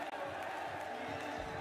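Crowd at an esports watch party for a Valorant grand final, a loud, steady roar of cheering and shouting that fills the whole stretch without a break.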